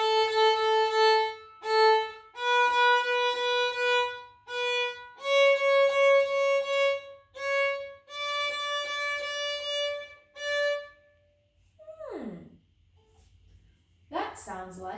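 A violin plays a melody, a run of clear sustained bowed notes in a simple stepwise tune, loud and close, followed by brief sliding squeaks at the end.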